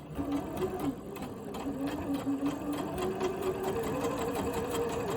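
A sewing machine runs a straight seam in a steady, fairly quiet mechanical whir, its motor pitch wavering slightly as it stitches without pause.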